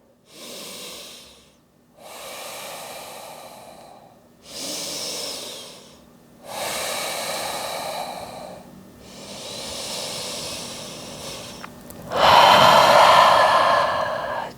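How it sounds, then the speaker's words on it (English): Slow, deep breathing during a yoga wide-leg forward fold, about six long audible breaths in and out with pauses between them, close to the ear, the last one a louder exhale. "Taking a few breaths here."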